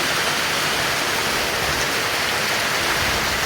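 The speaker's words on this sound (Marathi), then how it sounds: "हे बघा तर पाऊस बघा कसं मस्तपैकी पडता बघा" Heavy monsoon rain in the Konkan pours down steadily, a dense, even roar of falling water that stays constant and loud throughout with no gaps.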